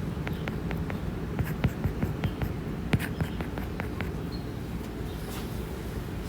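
Chalk or marker strokes tap and scratch on a classroom board during a math class, a series of short sharp marks spread irregularly over a steady low room hum, with no voices.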